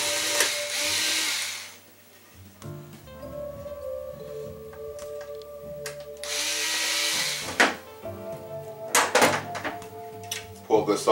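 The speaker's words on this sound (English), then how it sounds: "We'll just take the screws out." Power drill backing screws out of the rear panel of a 65-inch RCA LED TV, two close whirring bursts of a few seconds each, separated by quieter handling clatter and knocks.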